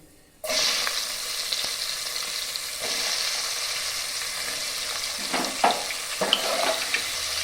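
Chopped onions fry in a pan for a mutton curry with potatoes, a steady loud sizzle starting abruptly and running throughout, with occasional scraping stirs and clinks near the end; no talking.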